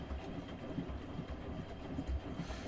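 Washing machine drum turning in its wash cycle, faint rhythmic thumping and rumbling with irregular heavy knocks from worn shock absorbers, no voices.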